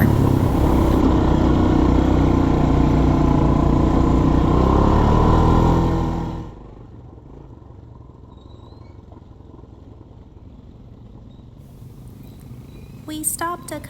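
ATV engine on a jungle trail in Belize, running loud and steady for about six seconds before dropping away to a quiet idle-like background, with faint clatter near the end.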